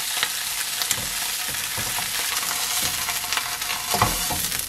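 Bread toasting lightly on both sides in a pan over low heat for a ham and egg sandwich, giving a steady soft sizzle with faint scraping and shifting noises throughout.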